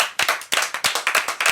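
Rhythmic clapping comes from a small audience on a French TV show, about a dozen distinct, evenly spaced claps close up and loud, more like a few hands in unison than a large crowd.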